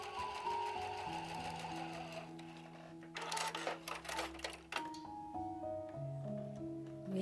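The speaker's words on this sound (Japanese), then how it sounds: "2箇所ここ縫いますよ。" A sewing machine stitches a small fabric bag in bursts of rapid, rattling mechanical clatter, close by and fairly quiet, with brief pauses between runs and no speech.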